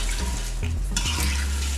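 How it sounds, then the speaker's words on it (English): Cranberries are stirred in a pot while cooking into cranberry sauce, giving a quiet, continuous wet churning and soft scraping over a low simmer. "We're just gonna kind of hang out and stir these until they come to a boil."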